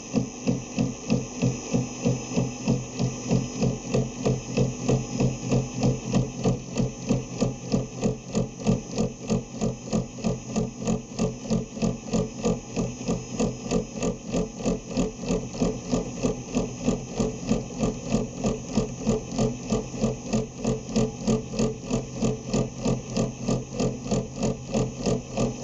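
A milling cutter cuts gear teeth for a pinion on a shaper machine. It runs at a steady, rapid rhythmic chug that repeats evenly over a constant motor hum, with no voices heard.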